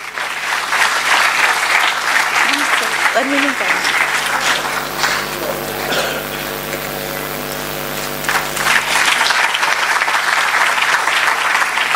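Loud, sustained applause from a conference audience welcoming a presenter, dense clapping that swells and dips slightly across its length, with a steady hum underneath.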